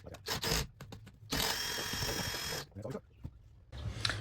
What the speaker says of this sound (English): So we're gonna just attach this to my drill, and we're gonna finish the hole